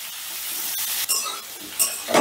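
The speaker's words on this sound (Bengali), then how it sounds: "এবারে গ্যাসের আঁচটা বাড়িয়ে দিয়ে আলুটাকে বেশ লাল লাল করে ভেজে নেব" Potatoes frying hard in hot oil over a high gas flame with salt and turmeric, a continuous loud sizzle and hiss with a few sharper crackles and stirring scrapes near the end.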